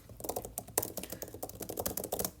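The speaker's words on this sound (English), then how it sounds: "you can now just directly start typing when you click on this keyboard mode" Rapid, uneven clicking of keys on a keyboard used for typing notes in the GoodNotes app, close and crisp with no voices.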